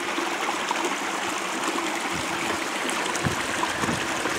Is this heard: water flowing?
yes